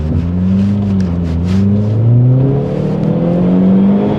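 A Dodge Neon SRT-4 with its engine revving hard and accelerating, the tone climbing and shifting through the gears, loud and close, with no talk over it.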